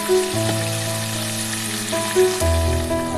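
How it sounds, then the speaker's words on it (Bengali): Bhola fish fries in a pan, a loud close sizzle that crackles steadily throughout, with a few sharper pops and a low hum beneath. "ভাজা হয়ে আর একটু একটু ভেজে নিয়ে এবার তুলে দেবো মাছটা"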